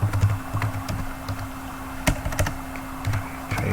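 Typing on a computer keyboard: close, quick irregular key clicks in short bursts with a few louder taps, no voices.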